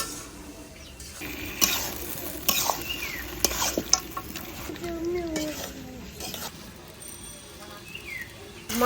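Chicken meat being stir-fried in a pan for a papaya curry: scattered clinks and scrapes of a spoon against the pan at moderate volume, with birds chirping in the background.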